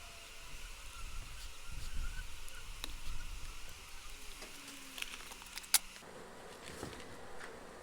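Honey bees buzz softly and continuously around an open hive during a honey harvest, with faint handling noises and a single sharp tap.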